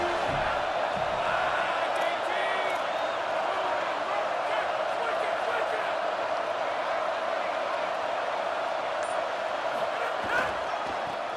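A stadium crowd at a college-style football game in a video game league roars continuously behind the defense on a big third down, a dense, even wall of cheering that stays at one level throughout.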